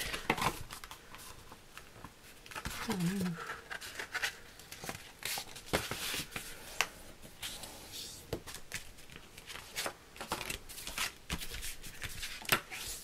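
Paper is folded and creased by hand while making a page for a Christmas scrapbook album, giving close, soft rustles and sharp crinkles in scattered bursts, with no talking.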